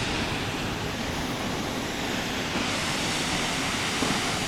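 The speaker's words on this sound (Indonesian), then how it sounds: "Air terjun, nggak tahu namanya." A waterfall on Mount Rinjani near Segara Anak, heard as a steady, loud, broadband roar of rushing water that fills the whole stretch without a break, with no voices over it.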